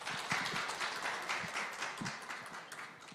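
An audience applauds at a hydrogen safety seminar in Incheon. Many hands clap at a moderate, slightly distant level in an uneven, rapid patter that holds steady for about three seconds.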